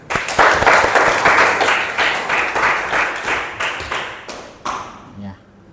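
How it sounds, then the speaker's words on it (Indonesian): Students in a classroom break into dense applause, many hands clapping at once, loud and close, tapering off toward the end with a few last claps as a teacher's voice briefly returns. "Tepuk tangan."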